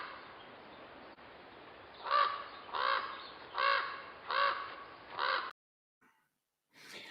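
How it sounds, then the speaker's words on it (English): A raven gives five harsh, croaking caws in an evenly spaced series, loud and fairly close with no other sound behind them, followed by near silence and a faint, brief call at the end. "here's what the raven sounds like"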